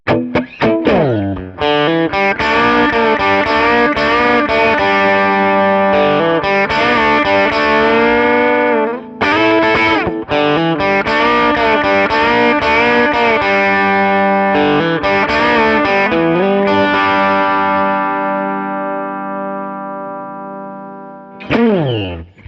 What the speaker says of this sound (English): a multi-effects unit like the Eventide H9 or the Keeley Modulation Workstation is a great way to get all those tones